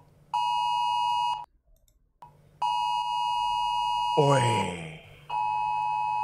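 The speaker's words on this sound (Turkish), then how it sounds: "Telefon öyle bir öttü ki korktum böyle" A phone's AFAD emergency alert sounds as a loud, steady electronic tone, cut off briefly and then resumed, with a person's startled exclamation breaking in near the end.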